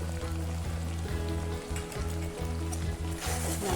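Gravy for papda fish kaliya fries in a pan with a soft, steady sizzle; background music plays over it throughout.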